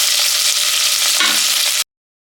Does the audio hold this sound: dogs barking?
no